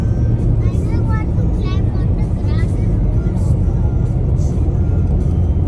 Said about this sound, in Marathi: आत्ता जाऊन ट्रॅफिक कमी झाले आणि आमची गाडी जरा वेगात धावायला लागली